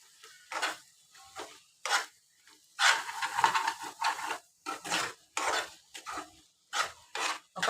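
A utensil scrapes and stirs egg curry with spices in a pan, giving about a dozen short rhythmic rasping strokes at steady pace, fairly close, with no talk.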